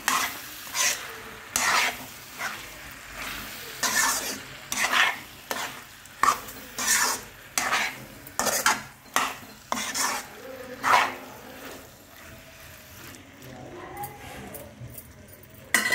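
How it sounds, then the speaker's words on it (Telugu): Boiled potatoes are stirred into a sizzling frying pan, a series of close scraping, clattering spoon strokes in uneven rhythm over a soft background sizzle, with a brief voice near the end. "అలాగే ఉడికించి పక్కన పెట్టుకున్న బంగాళాదుంపలు వేసి కలుపుకోవాలి బాగా."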